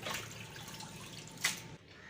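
Water dripping and trickling from washed beef as it is lifted out of a basin, a soft steady wet patter with a brighter splash near the end.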